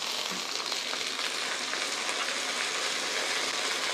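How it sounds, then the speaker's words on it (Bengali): Ginger garlic paste dropped into onions frying in oil for a broiler chicken bhuna, giving a steady close sizzle with a constant crackling hiss. "পেঁয়াজটা যাবতীয় মশলা দেওয়ার মতো হয়ে গেছে এখন দিচ্ছি আদা রসুন বাটা"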